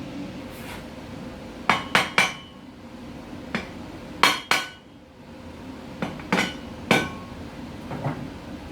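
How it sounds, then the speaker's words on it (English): Sharp metallic hammer taps on a driveshaft being shortened ring out in small clusters of two or three, separated by pauses, over a low background hum. "That involves a little pecking on it with a hammer"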